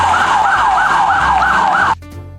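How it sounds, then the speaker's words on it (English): A toy police car's electronic siren wails in a fast, looping up-and-down pattern, loud and close, then cuts off abruptly near the end. "Very nice, police car."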